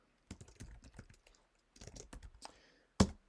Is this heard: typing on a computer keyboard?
yes